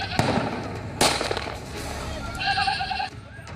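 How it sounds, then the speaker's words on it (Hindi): Gunshots from a history-sheeter firing at a village head in Mainpuri, Uttar Pradesh: two sharp loud cracks about a second apart, followed by a bleating goat and a voice in the background. "गांव के प्रधान पर गोलियों की बौछार कर रहा है"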